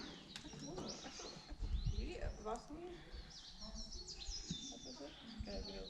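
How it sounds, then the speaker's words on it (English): Birds chirping and calling outdoors on the Leopard Trail hike amid a busy, rustling background, some calls close and bright, others farther off. "And I love the sound"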